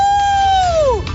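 A person's voice imitates a wolf howl: one sustained, near, loud tone that slowly slides downward and drops off sharply at the end, heard alone.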